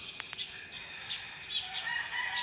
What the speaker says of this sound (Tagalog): Puro tigtilaok ng manok, pagtulaok.